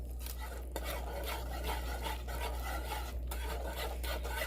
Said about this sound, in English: I'm going to add that and whisk